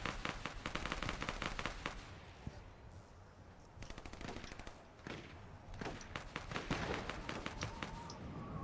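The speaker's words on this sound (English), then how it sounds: "Somebody shooting over here." Rapid bursts of gunfire crackle in quick volleys, several clusters of shots separated by brief lulls, loud and close with a sharp echoing tail.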